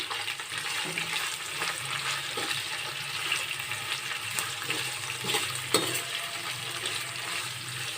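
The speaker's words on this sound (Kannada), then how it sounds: "ಸೇರಿಸ್ಬಿಟ್ಟು ಈ ಥರ ಮಿಕ್ಸ್ ಕೊಡಿ, ಅಂದರೆ ಬಾಡಿಸ್ಕೋಬೇಕು ಈ ಥರ ಮತ್ತೊಮ್ಮೆ" Carrots, beans and peas sautéing in a pan, with a steady, fairly loud frying hiss and intermittent stirring scrapes and taps, heard close and without talk.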